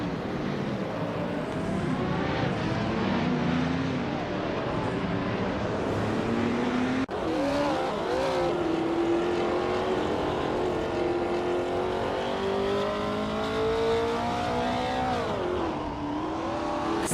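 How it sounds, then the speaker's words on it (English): A vintage 1966 Chinook Mark II race car roars at sustained high revs, its engine note climbing and dropping through gear changes, loud and continuous with other cars mixed in. "Nahokawas is racing a vintage Chinook Mark II from 1966"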